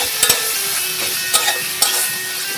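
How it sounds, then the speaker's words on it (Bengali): A spice paste with sour yogurt sautéing in a pan for Bengali niramish dhokar dalna, stirred briskly: a close, dense sizzle with repeated scraping strokes of the spatula at a steady pace, no voices. "ভালো করে মশলাটা কষিয়ে নেব।"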